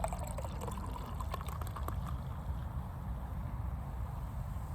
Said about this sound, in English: Let's go and crack open my can of lemon-flavored carbonated water from Wegmans real quick. Just like that. And let's go ahead and pour it in.